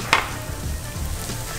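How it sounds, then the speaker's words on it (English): Pieces of Atlantic sharpnose shark fry in hot peanut oil with a steady, close, crackling sizzle and a brief sharper pop near the start, with no talk. "and we're just frying these guys up."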